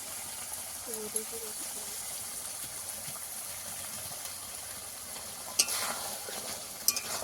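Fish curry with ground cumin, garam masala and black pepper is stirred in a pan, producing a faint, steady sizzle with a couple of sharp spoon taps against the pan near the end.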